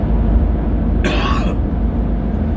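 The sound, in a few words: coughing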